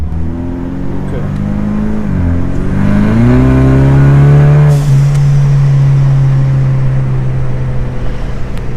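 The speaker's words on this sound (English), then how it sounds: "I have a blow-off valve adapter as well, if you guys have seen my blow-off video. So that's what that whistle is." Ford Mustang EcoBoost with an aftermarket exhaust and blow-off valve adapter, heard from inside with the windows up: a loud engine note climbs in pitch through revs, then settles into a steady, droning cruise.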